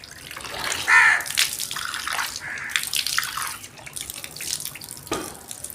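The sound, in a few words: water poured on face during ablution (wudu)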